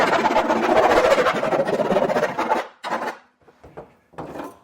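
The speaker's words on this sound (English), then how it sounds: "you're going to want to file down the edges if there is a lot of burrs on here" Burrs being filed off the edges of a freshly cut hole in steel during a gooseneck hitch install on a 2015 Chevrolet. A close, continuous scraping rasp is followed by a few shorter strokes and pauses.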